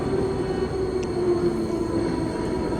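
Inside a Swiss train climbing toward the Top of Europe, a steady low rumble of wheels and carriage fills the cabin with a faint squeal tone running throughout and no talking.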